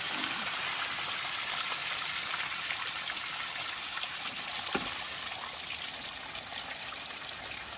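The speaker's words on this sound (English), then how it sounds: "See the flapper valve open, letting the water out." Water pushed out through the flapper valve of a low-head transfer pump that runs on mass rather than velocity, a steady close trickling and splashing flow that continues unbroken and fades slightly toward the end.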